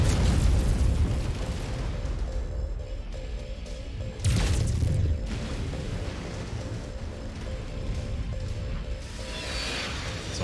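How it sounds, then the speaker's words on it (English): Artillery shells in modded MechWarrior 5 land in heavy, rumbling explosions, a loud deep blast at the start and another sharp impact midway, with a continuous roar of battle in between and no voices. "This artillery is nuts"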